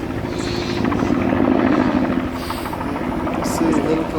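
A helicopter passes overhead with a steady throbbing rotor chop and engine drone, loud and continuous, while a voice talks over it.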